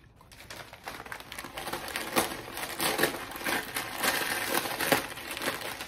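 Paper wrapping and tape on a mailed plant package are pulled open up close, giving steady loud crinkling and crumpling with sharp rustles throughout, no talking.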